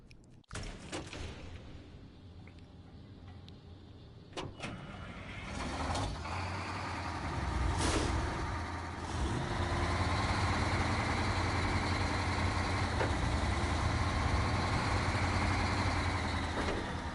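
A truck engine runs in the off-road driving game SnowRunner, starting low, then swelling into a steady, heavy rumbling drone that holds without any speech.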